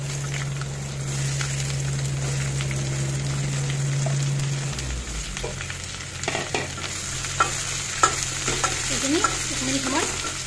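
Bitter gourd with onions frying and being stirred in a pan for a fish dish, a steady close sizzle with scraping stirs and clatter growing busier in the second half; no talking.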